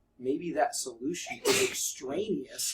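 A single sharp sneeze bursts out in a classroom math lesson, close and loud, between stretches of a teacher's speech.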